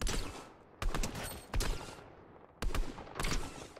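Bursts of gunfire in an Epic Games shooter, four loud volleys at irregular intervals, each a sharp crack trailing into rattling echo, with no voices over them.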